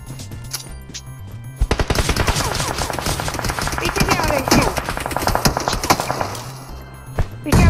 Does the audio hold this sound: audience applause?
no